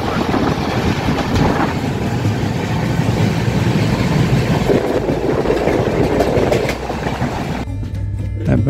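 A passenger train, reported to be on fire, travels along the rails with a continuous loud rumble and rattling clatter of the carriages, heard from inside and steady throughout with no speech.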